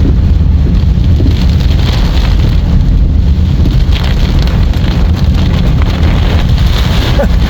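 Heavy rain roars steadily while strong wind gusts through it, a loud, constant wash of noise with no talking.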